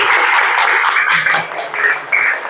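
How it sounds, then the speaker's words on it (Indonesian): A school class applauds a classmate, a brief burst of clapping from many hands that lasts a couple of seconds, loud and close. "Aplaus dulu untuk teman kita."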